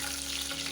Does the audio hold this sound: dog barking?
no